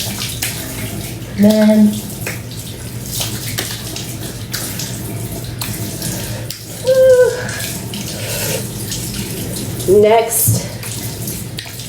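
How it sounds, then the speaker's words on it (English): Warm water runs from a tap during face washing, a steady close rush with brief louder splashes recurring three times, while a person speaks briefly. "With some warm water and gets everything out."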